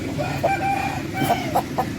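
A breed rooster of the kind sold for around twenty thousand gives harmonic crowing calls with clucking bursts over a steady farmyard background, fairly close and moderately loud.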